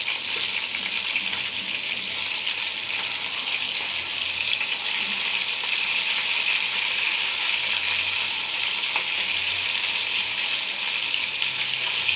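Hilsa fish frying crisp in oil sizzles with a dense, even crackle that holds close and steady throughout, with no talk.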